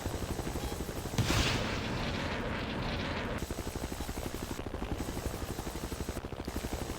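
A Battlefield 2 video game helicopter thrums with a steady, close rotor chop, broken by a short burst of gunfire and brief dips in the engine roar.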